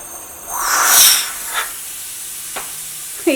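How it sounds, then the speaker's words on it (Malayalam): Steam hissing from a puttu steamer cooking soft rice puttu, a broad hiss swelling and fading with a few brief sharp bursts, close and fairly quiet. "ഇപ്പോൾ ഒരു 2 മിനിറ്റ് നന്നായിട്ട് ആവി വന്നിട്ടുണ്ട്"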